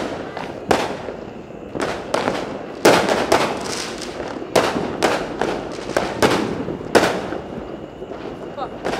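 New Year's Eve firecrackers and fireworks go off around Makassar in a dense, uneven barrage of loud bangs and crackling pops, some close and some distant, over a steady rumble with voices in the background.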